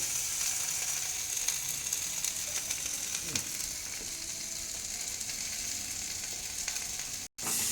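Potatoes sizzling steadily in a pan of hot oil, a loud and constant frying hiss with a faint stir partway through and a brief cut-out near the end, with no voices.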